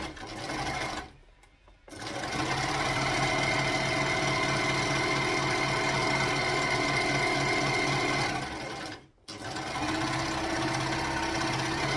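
Sewing machine stitching fabric in steady fast runs, a dense continuous whir that cuts out briefly twice, close and clear with no talk.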